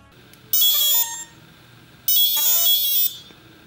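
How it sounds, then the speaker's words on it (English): A small robot gives its power-on signal when its main bolt is turned counterclockwise with an Allen key: two loud, bright electronic chime phrases, each about half a second to a second long, separated by a short pause. "slowly turn the main bolt counterclockwise until you hear a power on beep"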